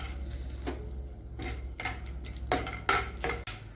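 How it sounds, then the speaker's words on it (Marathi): Peanuts and lentils roasting in oil in a pan with cumin and mustard seeds for upma, with a faint sizzle under repeated clinks and scrapes of a spoon stirring against the metal pan, close by and without talk. "शेंगदाणे आणि डाळ व तेलामध्ये थोडंसं परतून घेऊ आपण"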